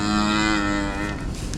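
A dairy cow moos loudly and steadily while calving on a Wisconsin dairy farm, one long close bellow that holds strong before trailing into rough breathy sound.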